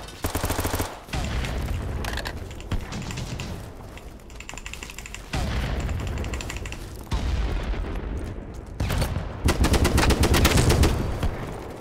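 Automatic gunfire in the BattleBit shooter game, rapid bursts of shots rattling off in several volleys of varying length, loud and close, with brief gaps between strings and a heavier final burst.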